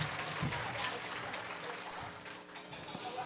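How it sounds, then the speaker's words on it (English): An audience at a Tamil Heritage Month gala in Ottawa claps for performers, a dense, fairly soft wash of applause that continues steadily and eases slightly toward the end. "Could you please get another round of applause for our amazing artists?"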